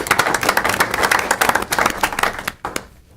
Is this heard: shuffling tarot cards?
no